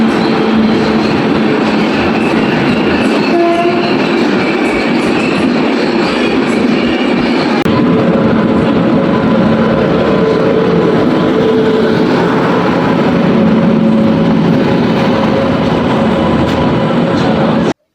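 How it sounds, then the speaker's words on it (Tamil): Train passing Salem Junction platform: loud, continuous rumbling roar with rattling wheels and carriage noise, close by and steady for the whole stretch, no clear talk. "ஒரு ட்ரெயினோட சவுண்டு வருது"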